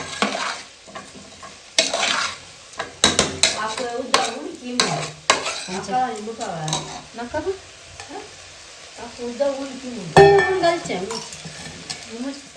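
Food stirred and frying in a pan with sunflower oil, a steady sizzle broken by irregular scraping and clinking strokes of the spoon, close and fairly loud, with a little faint talk in the background.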